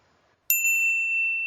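A single bright notification-style bell ding strikes once sharply and rings on with a clear sustained tone, loud and isolated against near silence.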